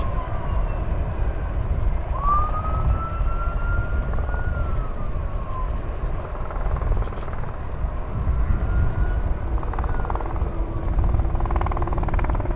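Steady low roar of a three-engine jet's distant engines rumbling continuously at DFW Airport, with a faint rising whine drifting through; no voices.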